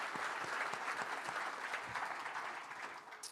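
Soft, distant applause from a synagogue congregation during a Shabbat sermon at Temple Israel, a steady patter of clapping lasting a few seconds.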